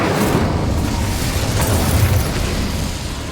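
An Incendio fire spell blast in Hogwarts Legacy, a loud sustained roaring whoosh of flame lasting a few seconds and fading slightly at the end, with no voices.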